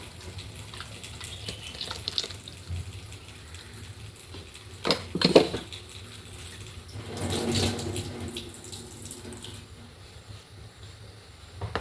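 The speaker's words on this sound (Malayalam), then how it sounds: "മിക്സിയുടെ ജാറ് കഴുകി കുറച്ച് വെള്ളം കൂടി ഒഴിച്ചു കൊടുക്കാം" Water runs and splashes as a mixer-grinder jar is rinsed and the water poured into a dried prawn and mango curry, with a couple of louder clattering rinses midway and a steady watery hiss throughout; no talking.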